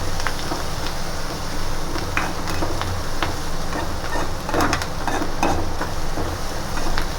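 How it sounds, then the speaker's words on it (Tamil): Onions sauté in a pan for surai meen puttu, a steady loud sizzle running throughout while a spoon stirs them, scraping and tapping now and then, with no voices. "நல்லா வெங்காயம் வந்து பொன்னிறமாக வதங்க வந்துட்டு நல்லா கிண்டி விட்டுக்கிடுவோம்"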